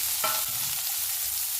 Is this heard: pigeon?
no